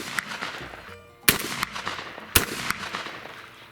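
A Winchester 1400 shotgun fires two sharp, loud blasts about a second apart outdoors, each followed by a brief rumbling decay over low background noise.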